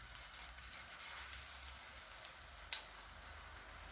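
Spicy crepe paratha frying in oil on a pan, giving a soft, steady sizzle that stays faint and even throughout, with one small crackle partway through and no talking.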